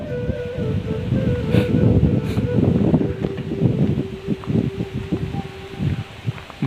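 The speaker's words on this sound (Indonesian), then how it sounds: "Semakin kencang angin di sini." Strong wind sweeps through a village near a hot spring, rustling leaves in rising and falling gusts at moderate loudness, with no talking.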